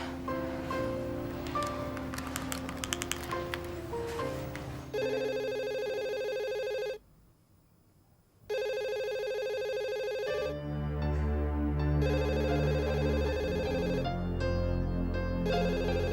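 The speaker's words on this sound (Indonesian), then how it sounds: "Masa nggak ada yang angkat telepon?" A telephone rings repeatedly with nobody answering, steady electronic ringing over a busy indoor background, with a brief pause midway before the ringing resumes.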